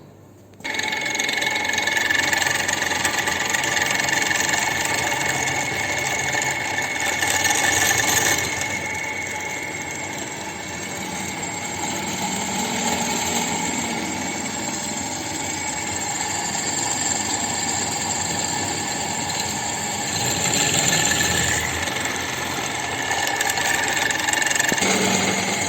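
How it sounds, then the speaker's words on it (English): In a fitting shop, a drill machine bores holes into a metal workpiece, giving a continuous loud mechanical hum and whine with slight swells in intensity throughout. "So here it is a drill machine, and he is holding the job"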